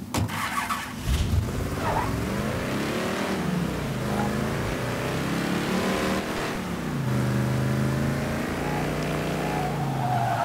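A borrowed car pulls away in a video game, its engine revving and climbing in pitch as it accelerates, loud and close, with tyre squeal and no talk over it.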